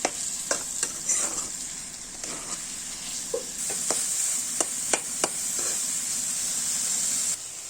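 Eggs frying in a pan for a pasta dish, with a steady close sizzle and hiss under repeated sharp scrapes and taps of a spatula as it stirs, no talking.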